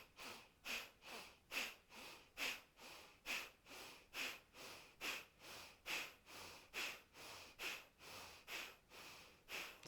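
Dynamic deep yoga breathing: about twenty rapid, forceful breaths in a steady, even rhythm, close and fairly quiet, with no talking.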